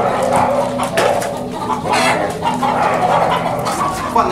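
Hens cluck and squawk at a dog kennel that also kept donkeys, loud and close in a busy, continuous mix with occasional dog barks.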